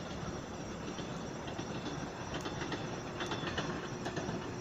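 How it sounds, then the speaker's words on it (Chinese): A Taiwan Railway train crossing a bridge over a stream, a steady loud rumble of rolling wagons with faint rhythmic wheel clatter throughout. "火车过集水溪的桥了"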